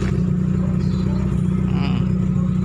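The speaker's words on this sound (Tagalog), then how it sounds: "Naka free flow muffler." Toyota small body engine fitted with a free flow muffler, idling with a loud steady low rumble and fast pulsing exhaust throb, continuous and close.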